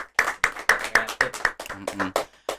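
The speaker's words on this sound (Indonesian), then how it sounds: "Tepuk tangan dong untuk podcast Meta Kreatif." In a small school podcast studio at SMK PGRI 1 Kedondong, a handful of people clap about a dozen distinct, close, crisp claps in loose rhythm, with brief voiced sounds slipping in between the later claps.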